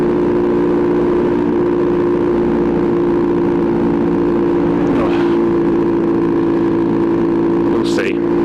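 A Kawasaki Z900RS cafe motorcycle with a full titanium race exhaust, a steady loud engine drone idling and held at revs throughout, close by, with someone talking over it.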